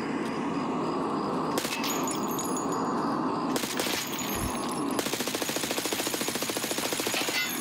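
Gunfire in Escape From Tarkov: scattered single shots and cracks over a steady background, then a sustained rapid automatic burst near the end, loud and close.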